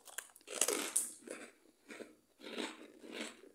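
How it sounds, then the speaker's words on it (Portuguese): Serra Sul butter is tasted with a crisp, crunchy bite, followed by a run of close, rhythmic crunching chews, several distinct bursts in a row, heard alone with no talk. "ouçam a crocância"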